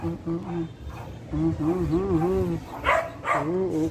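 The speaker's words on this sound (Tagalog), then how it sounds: "Ang aso ko maganda. Si Beauty." Beauty, a dog, gives high wavering whimpers and whines in several drawn-out bursts, with a couple of short sharper yips, close by, while a person talks softly over them.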